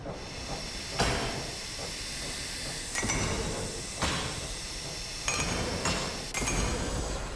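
A wrench works on the coolant repair in the video game MOLE, giving sharp metallic clanks at irregular intervals over a constant background hiss and hum, with no talking.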